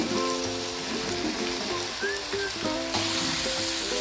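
Capsicum fries in a pan with tomato, turmeric and masala for a restaurant-style dahi capsicum curry, giving a constant crackling sizzle with faint music playing underneath.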